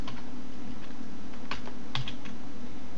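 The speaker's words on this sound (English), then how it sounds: "I hit the enter key, type some text, cursor down key, more text." Typing text on a computer keyboard, a run of quick, close key clicks with a few sharper strikes, over a steady low hum.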